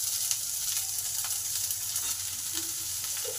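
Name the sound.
onions frying in pan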